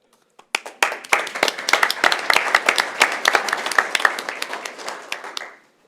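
A crowd at a school board meeting breaks into loud, sustained applause, many hands clapping together before it fades out.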